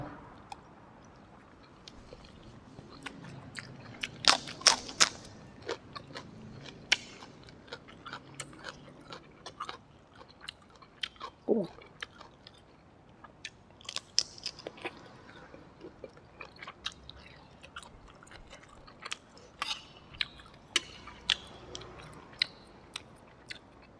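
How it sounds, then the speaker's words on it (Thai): Spicy pad kaprao with minced pork and shrimp is eaten with rice and crispy winged beans, with close, irregular crunchy bites and chewing against a quiet background. "วันนี้กินผัดกะเพรา"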